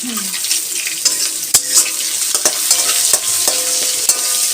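Garlic sizzles in hot mustard oil in a pan while a utensil stirs it, a continuous bright frying hiss broken by sharp scraping clicks, close and fairly loud.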